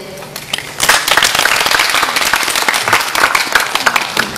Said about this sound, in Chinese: 让我们以热烈的掌声请出本场比赛的对阵双方